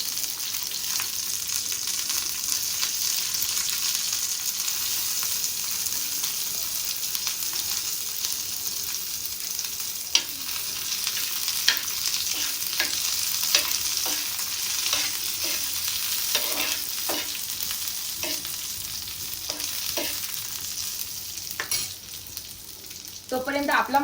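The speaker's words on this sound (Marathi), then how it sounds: "आणि थोडासा आपण लसूण पण फ्राय करून घेऊ." Garlic sizzles steadily in a hot pan, with a spoon scraping and stirring in repeated clicks and strokes that grow busier toward the end; no one speaks.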